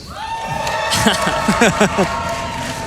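A live crowd at a Games Done Quick speedrun event cheers and whoops loudly, with excited shouting voices rising and falling over a steady background hum.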